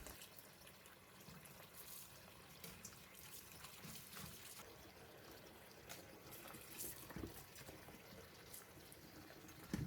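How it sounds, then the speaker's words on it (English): Fresh squid being washed in water, with continuous splashing, sloshing and trickling close by, steady throughout with occasional louder splashes and no speech. "I will skip the flour part and only wash it with water"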